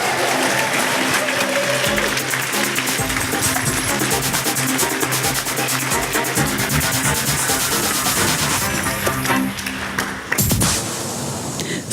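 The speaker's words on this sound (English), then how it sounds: "Now, massive applause for Jelena!" A large audience at a brain-computer interface science slam at TU Graz breaks into loud, sustained applause, a thick wash of clapping that carries on for the whole stretch before briefly dipping near the end.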